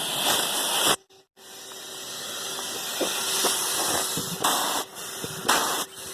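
A small portable steam engine's opened steam chest drain blasts loud, continuous steam hiss, cut by a short silent gap near the start and a few later dips in force.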